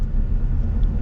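A 2022 Ford F-250 Tremor with the 7.3L Godzilla V8 drives under light throttle, giving a steady low engine and road rumble from inside the cab.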